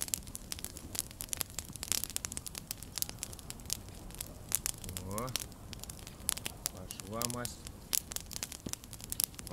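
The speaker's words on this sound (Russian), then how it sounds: "что может быть приятней, как звук костра, ребята, на природе." A campfire burns at a winter bushcraft camp under a tarp in the Siberian taiga, with sharp, irregular crackles and pops snapping over a soft hiss. Brief tonal sounds rise twice in the middle.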